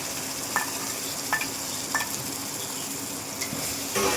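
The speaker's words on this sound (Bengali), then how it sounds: "এটা আদা রসুনের পেস্টটা দিয়ে দেবো। পেঁয়াজ বাটাটাও দিয়ে দেবো।" Ginger garlic paste and onion paste frying in a pan, giving a steady low sizzle with a few light spoon scrapes and clinks at intervals.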